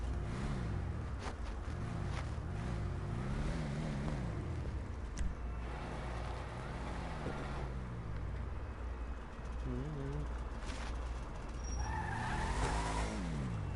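Ford Torino built on the Bravado Gauntlet Classic in GTA 5, its engine droning loud and steady with rising and falling revs, tire noise and skidding, and a brief whine near the end.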